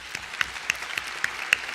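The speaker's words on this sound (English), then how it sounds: "Let's give them a round of applause." Sparse applause from a conference audience at a Hong Kong tech event, a handful of distinct, crisp claps standing out over a light wash of clapping.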